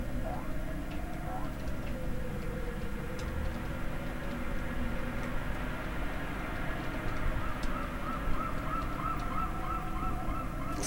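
Seagulls calling in a retro video game, repeated honking, goose-like squawks over a dense steady background, with a person talking at times across the stretch.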